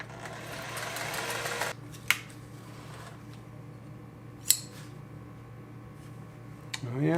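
Singer 403A sewing machine stitching with dark thread, a humming motor run for under two seconds, then low mechanical hum with sharp clicks and a brief whir at the end.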